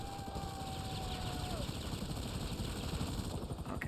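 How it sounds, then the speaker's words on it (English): A helicopter in GTA Online gives a loud, steady rotor chop and engine drone throughout, with a faint falling tone early on and a person talking over it. "hopefully this helicopter crashes before the timer goes down"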